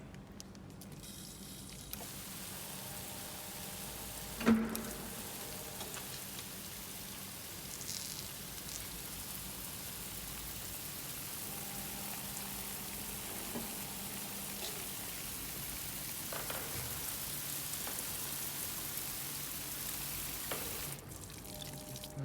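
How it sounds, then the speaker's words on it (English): Artificial rain falls from rainfall simulator nozzles in a hydrology lab, a steady even hiss of spray running throughout with a brief louder knock near the start and no talking. "we'll open the nozzles and the rain and the carriage from the controller all at the same time."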